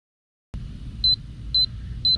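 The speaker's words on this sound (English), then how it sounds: "Has an audible alarm, and it also shows you the pressure, and it starts flashing." Tire pressure monitoring system in a Casita travel trailer sounding its audible alarm: three short, high electronic beeps evenly spaced about half a second apart, over a low background hum after a sudden start.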